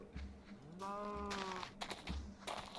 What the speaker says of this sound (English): So this should make the sheep.